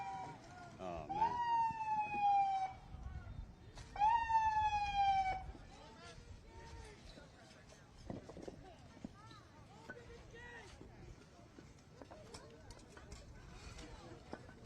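An EMS ambulance siren wails in two rising-and-falling bursts at a heated New Jersey protest with state police present, fairly near, then fades as people talk and clatter around.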